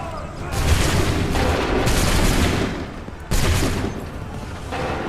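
A musket volley in Assassin's Creed 3 Remastered, as a massed line of muskets erupts into a loud, rolling wall of booming gunfire, followed by a second sharp volley a few seconds later.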